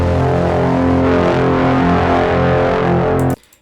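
A loud, heavy sci-fi brom, a deep distorted droning blast with dense low rumble, sustained for a few seconds before cutting off abruptly.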